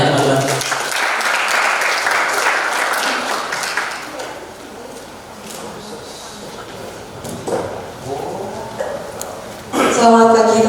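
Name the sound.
audience applause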